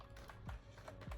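Quiet keystrokes on a computer keyboard while typing a ChatGPT prompt: a few soft, irregular taps within a second, faint and close over low background noise.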